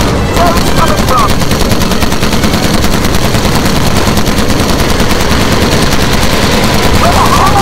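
Sustained, loud machine gun fire in the World War II game Call of Duty: United Offensive during a bomber mission, a dense, continuous rattle of rapid shots with engine drone underneath, unbroken for the whole stretch.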